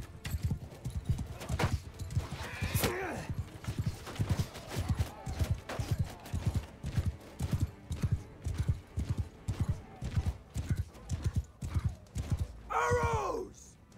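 Horse archers' hooves in the game Mount & Blade II: Bannerlord, a long run of rhythmic clip-clop beats at a steady gallop, close and distinct, with a horse whinnying near the end.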